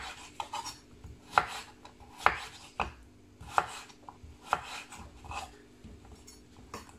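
A kitchen knife slices cucumber on a cutting board to make rolls, giving sharp, distinct chops at an irregular pace, near and crisp, with a few softer knocks between them.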